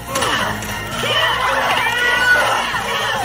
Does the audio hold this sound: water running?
no